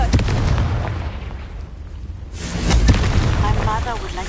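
A Confringo fire-blast spell cast in Hogwarts Legacy erupts as booming, crackling bursts, with a heavy blast near the start and another around the middle, amid loud game effects.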